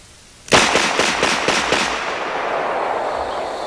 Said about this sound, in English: let's watch the gun in recoil as we rapid fire it 6 times